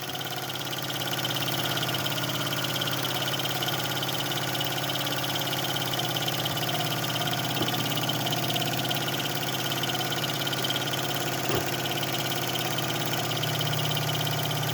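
A 1970s Mamod toy stationary boiler steam engine runs with a steady, even hiss and mechanical whir, constant and fairly close, with no talking.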